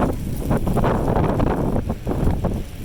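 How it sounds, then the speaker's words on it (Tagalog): Strong, very cold wind in snow buffets the microphone in loud, rumbling gusts that rise and fall over a few seconds, with no voices. "Malakas ang hangin."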